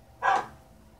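A Minecraft dog gives one short, clear bark, bright and close, then quiet game background follows.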